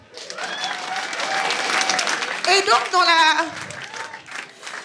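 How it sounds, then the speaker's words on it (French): A crowd applauds warmly for several seconds, the clapping swelling and fading while someone speaks briefly over it. "Applaudissez pour elle."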